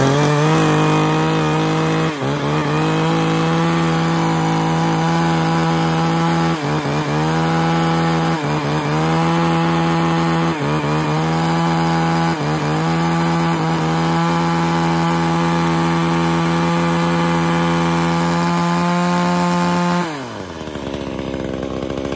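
A used Japanese chainsaw engine runs during a test, a loud steady buzzing idle with a few brief dips and revs, then tapers down near the end, no talk over it.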